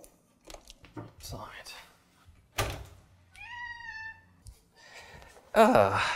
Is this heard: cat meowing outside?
yes